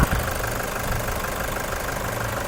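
Steady, rattly idling of a Toyota Commuter van's 3.0 D4D diesel engine close by, a continuous low knocking chug with no talking.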